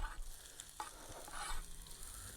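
Onion hits a pan of frying potatoes and a continuous sizzling hiss follows, moderately close, with a faint scrape or two in the background.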